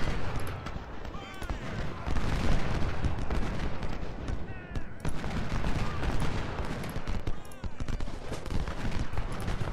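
Massed musket volleys and artillery boom without pause in an Ultimate General: Civil War battle, a dense, loud, continuous crackle of gunfire with deeper thuds throughout.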